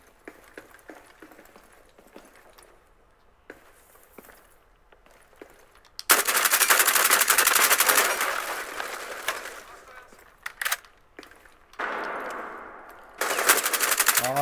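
Gunfire in Rainbow Six Siege: scattered single shots at first, then long loud bursts of rapid automatic fire, with more bursts in between and at the end, and faint voices in the background.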